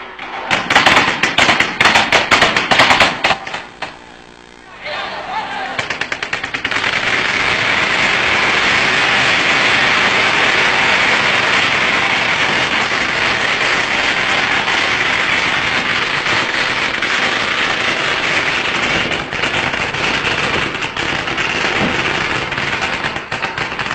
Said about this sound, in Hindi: बंदूक से मशीन गनों से गोलियां छोड़ी गई